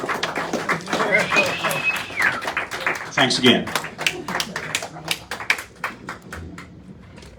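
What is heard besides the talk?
audience applause at farewell show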